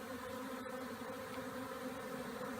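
A swarm of bees gathers in the crook of a tree, a steady, even drone of buzzing wings holding at one level throughout with no voices.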